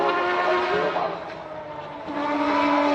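A yellow Mitsubishi Lancer Evo 5 with variable-length intake trumpets accelerates on a circuit's main straight. Its steady, buzzy engine note dips briefly, then climbs again, loud and close throughout.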